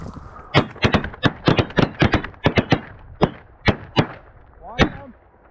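A rapid volley of shotgun blasts fired by hunters at incoming Canada geese: a dense burst of loud, sharp shots, then a few spaced shots, with a goose call near the end.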